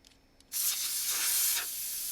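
Air hisses out through a tire valve as a pin is pressed on a Jeep tire, a sudden loud, steady rush that starts after a couple of small clicks and eases slightly near the end.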